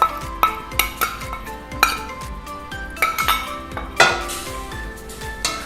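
Metal spoon or spatula clinking repeatedly against a pan while green curry paste is stirred into simmering coconut milk, a steady run of close, bright scraping clinks with no talking.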